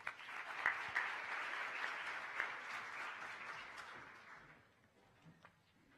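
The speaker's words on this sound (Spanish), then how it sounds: "Un aplauso para ellos." A seated audience at a banking conference panel gives sustained applause that fades out over several seconds, fairly quiet and heard from a distance.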